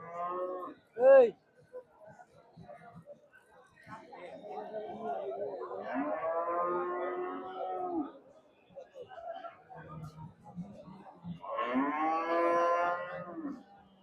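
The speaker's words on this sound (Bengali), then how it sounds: "গরুটা খুব সুন্দর গরু" Cattle at the Rustumpur cow market in Bagha, Rajshahi, give long, deep moos, two clear calls a few seconds apart, between sharp nearby noises and background chatter of traders.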